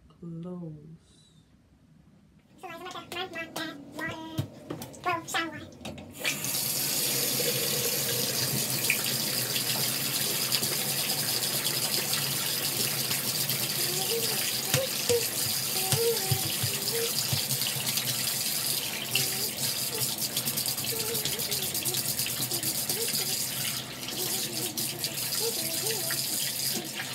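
Water from a home shower runs in a steady, loud broadband hiss that fills most of the clip after a quieter start, with a voice talking briefly near the beginning.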